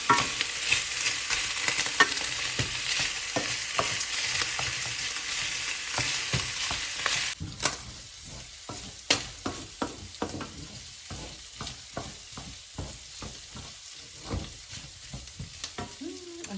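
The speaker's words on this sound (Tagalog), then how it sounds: "Maingay na yung taba." Loud, steady sizzling of pork fat frying in a pan for dinuguan, with frequent scraping and stirring clicks; the hiss drops quieter about halfway through while the stirring continues.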